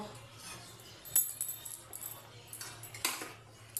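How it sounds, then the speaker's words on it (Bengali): A metal ladle stirring sugar and grated coconut in a cooking pot for a Janmashtami offering, with faint scraping and a few sharp clinks over a low steady hum. "এবার হাতা নিয়ে নিয়েছি দিয়ে ভালো করে নেড়ে নেব"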